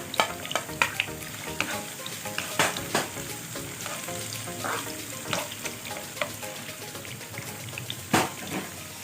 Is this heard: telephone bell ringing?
no